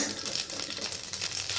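Mustard seeds hit hot oil in a pan while cooking an eggplant and pea curry, giving a steady crackling sizzle dotted with tiny pops, close and continuous, with no talking.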